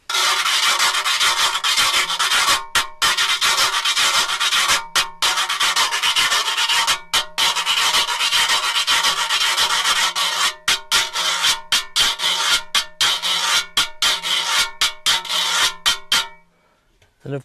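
A homemade guiro scratcher made from a corrugated can held on a piece of wood, scraped in long, loud raspy strokes with brief pauses between them, close and alone.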